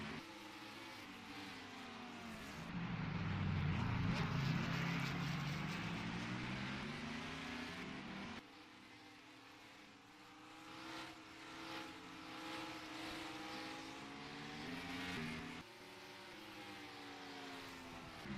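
Pack of stock cars racing in a NASCAR-style league in a racing video game, engines droning steadily and swelling loud as cars pass close, then settling to a sustained roar with shifting pitch over the full stretch.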